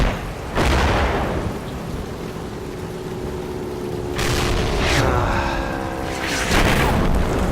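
Artillery shells explode in the WWII tank wargame Combat Mission: Red Thunder, several loud booming blasts with long rumbling decays, a heavy impact at the start and a cluster of crashing hits in the second half.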